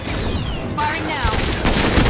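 Gunfire in the video game Mass Effect 2: rapid bursts of shots and impacts under busy game audio, with a voice talking over the action.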